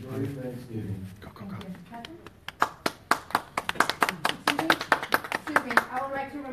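Scattered audience clapping at a public meeting, starting as a few hand claps under talking voices and building into a burst of sharp, uneven claps from a small group nearby.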